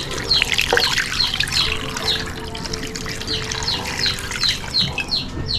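Water pours and splashes into an all-around wok holding pork lollipops, a close, sizzling, bubbly gush that continues steadily throughout.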